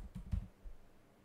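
A few soft, irregular keyboard taps close by, sparse clicks with pauses between them in a quiet room.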